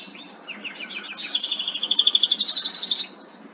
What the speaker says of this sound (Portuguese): Isso aqui é o passarinho que fica cantando